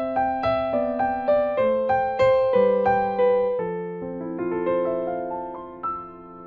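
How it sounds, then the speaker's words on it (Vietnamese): Piano, or a keyboard set to a piano voice, playing a hymn accompaniment: steady struck chords and moving bass notes in a slow, even rhythm, each decaying before the next, with a final chord ringing out, clear and close with no talking. "chúng ta có thể chọn tiếng piano"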